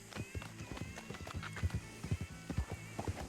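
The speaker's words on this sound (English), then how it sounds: "That's a lot of horses." Many hooves clip-clop in a fast, overlapping rhythm, with horses whinnying over the trampling, fairly close and continuous.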